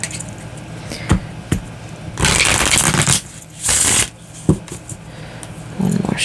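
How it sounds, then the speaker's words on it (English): Tarot cards being shuffled by hand, with two long riffling bursts between sharp taps and knocks as the deck is squared and handled up close. "One more shuffle"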